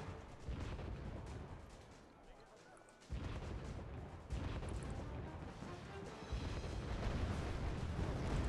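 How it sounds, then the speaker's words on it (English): Artillery fire in the war strategy game Wargame Red Dragon: a dense, continuous barrage of heavy booms and rumbling blasts that swells in loudness partway through, with a voice talking over it. "Oh god, the artillery power is so good."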